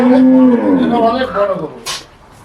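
A large dairy cow moos loudly and close by in a long, drawn-out low call that tapers off, followed by a brief rustle.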